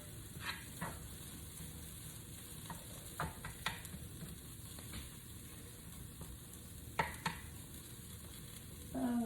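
Cauliflower chicken fried rice sizzles softly in a pan with a faint, steady frying hiss, while scattered light clicks and scrapes of stirring come through at close range.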